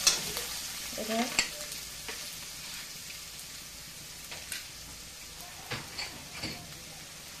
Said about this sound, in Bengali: এবার একটু নেড়ে নেবো। হালকা করেই নাড়বো সব।